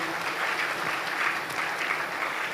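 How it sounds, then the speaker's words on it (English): Audience at a Democracy Day dialogue applauds a list of distinguished guests, steady even clapping from a large crowd heard at a moderate distance, unbroken for the whole stretch. "please a round of applause for each and every one of them"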